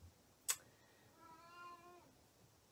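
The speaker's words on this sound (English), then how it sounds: "Maybe you can hear the cat. Because I can hear the cat." A single drawn-out cat meow, faint and indoors, following a sharp click, with no talk.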